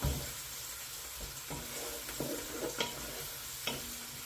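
Spices and seeds, cinnamon among them, fry with onions for a pumpkin chutney, giving a constant close sizzle broken by occasional sharp scrapes of a spoon stirring the pan.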